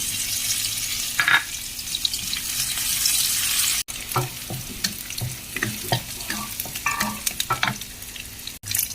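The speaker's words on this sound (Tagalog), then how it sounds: "Igisa na natin ang garlic. By the garlic. Followed by the dried prawn." Garlic and dried prawns sauté in hot cooking oil, giving a loud, bright sizzle that fades into uneven crackling and repeated scraping stirs, with two brief dropouts.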